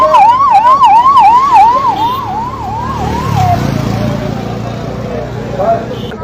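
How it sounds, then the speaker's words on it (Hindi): An ambulance siren on highway NH-352 at Narwana during a farmers' road blockade, wailing loudly and close in rapid rising-falling sweeps, then giving way to a rumbling traffic and crowd din with a faint distant siren returning. "एम्बुलेंस आई है, उसको रास्ता दिया गया है।"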